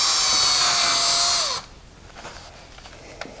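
A power drill bores into a wall stud to start a hole for Jeep door hangers, a loud close whine that slows in pitch and cuts off, followed by quiet handling noises.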